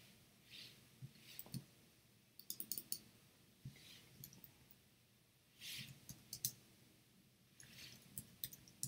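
Faint, sparse computer mouse clicks and keyboard taps during live forex trading, arriving in small irregular bursts against a quiet room.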